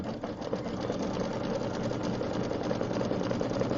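An embroidery sewing machine stitches circles in triple stitch on a quilt block, giving a continuous, steady, close mechanical whir with a fast needle rhythm throughout.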